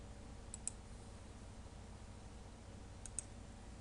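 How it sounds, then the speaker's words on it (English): Two pairs of faint, crisp computer mouse clicks sound over a quiet room hum, about two and a half seconds apart. "I click OK."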